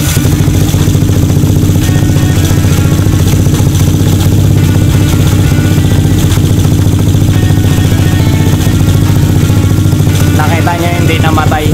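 A motorcycle engine fitted with dual CDI ignition idles loudly and close in a steady, continuous chug with a clattering edge, running without stalling while someone talks over it.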